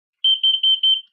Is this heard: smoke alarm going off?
yes